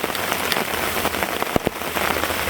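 Heavy rain pours steadily onto a lean-to camping tarp shelter, a dense close hiss broken by a few louder drops and splashes.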